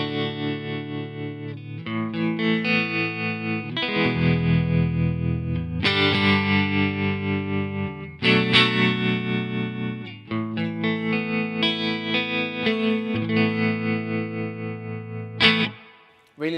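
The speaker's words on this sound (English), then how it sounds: "I've also got a tremolo on this rig" Electric guitar through a Kemper profiler with a tremolo effect, distorted chords pulsing in steady volume swells across several strummed passages, loud and close, ending in a sharp final hit.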